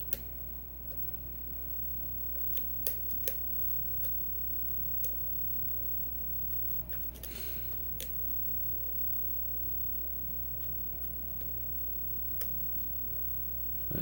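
Faint, sparse tiny clicks from pins being picked inside a Master padlock, a few isolated ticks over a steady low hum, close up and quiet.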